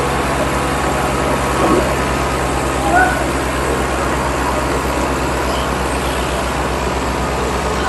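Tractor engines, a New Holland NH Ghazi 65 hp and a Millat 260, drone loud and steady in a tug-of-war contest, a continuous low rumble with faint crowd sound mixed in.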